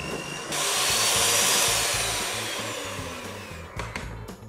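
Electric hand mixer beating icing sugar into buttercream, a steady high whirring drone that starts abruptly, holds for a few seconds, then winds down with some rattling at the end.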